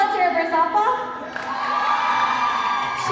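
Crowd of students cheering, whooping and shouting at a high school pink-out pep rally, a loud continuous roar with higher children's yells standing out.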